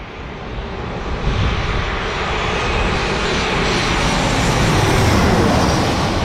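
A JetBlue Airbus A321 jet roars loudly and steadily, its broadband engine rumble swelling slightly over several seconds with no voices.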